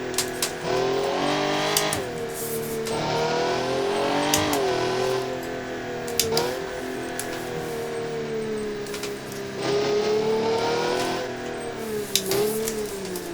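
A simulated car engine in BeamNG, a front-heavy Crown Model 10 Daily Track Sport, revs repeatedly, rising and falling through several loud accelerations with brief gear-change dips, no voices.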